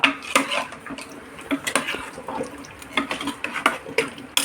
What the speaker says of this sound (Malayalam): അതിൽ നുറുക്കി വെച്ച മത്തൻ കഷ്ണങ്ങൾ ഇടുക